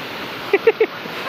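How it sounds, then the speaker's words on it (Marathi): A waterfall pours water down where people are bathing, making a steady broadband rush throughout, with three short voice bursts near the middle. "बघा किती पाणी कधी भारी उतरते"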